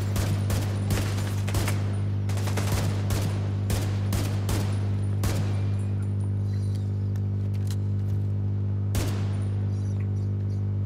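Rapid bursts of gunfire in The Division 2, loud and close, crackling in quick volleys over a constant low hum, with one more sharp shot after a short pause.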